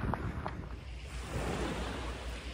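Sea waves on the Tuscan coast near Marina di Grosseto wash steadily in a soft, continuous surf hiss with some wind noise, faint and without voices.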